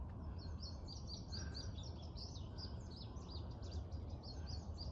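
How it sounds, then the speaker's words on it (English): Several songbirds chirp and trill on a morning along the Appalachian Trail near a river and farm fields, bright repeated calls overlapping at moderate distance above a low steady background rumble. "And I hope you can hear the birds."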